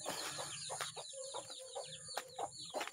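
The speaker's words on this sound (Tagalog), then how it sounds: "maririnig nyo po ang ingay ng ating mga sisiw. Gutom na rin po." Hungry chicks and hens on a farm at feeding time, a busy chorus of high, rapid chick peeps layered over lower repeated hen clucks, moderately close and continuous with uneven bursts.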